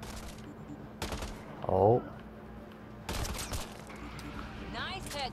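Gunfire in the video game Mass Effect Andromeda during a fight, several bursts of sharp shots scattered across the stretch with a brief voice in between, moderately loud over a quiet game background.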